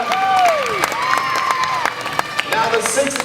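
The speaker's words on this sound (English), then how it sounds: "Keep the applause going for Greg, Matt, and Eli." Studio audience applause and cheering for contestants on a game show stunt stage, continuous clapping with whoops and shouts rising over it, loud and close.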